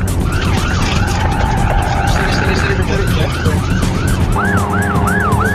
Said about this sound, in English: A police Land Rover is in pursuit as the van heads out of town.